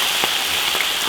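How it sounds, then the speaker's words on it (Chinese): Chili paste frying with ginger and scallion in an iron wok gives off a steady, close sizzling hiss, with a couple of soft stirring bumps and no talking. "辣椒酱炒香"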